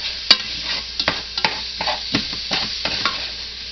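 Egg mixture cooking fast in a hot pan as a spaghetti squash omelette turns into a scramble: constant sizzle broken by repeated sharp stirring scrapes and taps, no talking.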